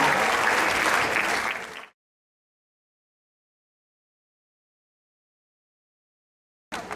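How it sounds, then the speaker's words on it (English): Audience applause at a folk dance festival concert, a dense steady clapping crowd that fades out after about two seconds, then a long silence before clapping briefly resumes at the end. "Let's give them a round of applause."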